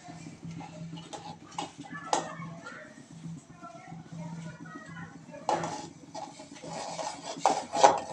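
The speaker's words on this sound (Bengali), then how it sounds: "সুন্দর করে নাড়াচাড়া দিতে হবে।" A spatula scrapes and stirs dried fish curry with eggplant in a pan, giving steady rasping strokes with a few sharper clinks, heard close up.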